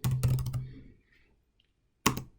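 A few quick clicks on a computer keyboard while entering a command in AutoCAD, a short burst of close, crisp keystrokes, then near silence, then another brief cluster of taps.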